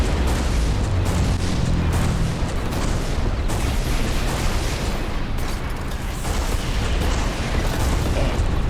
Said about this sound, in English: We're going to throw the bomb over there. Pop it right next to him.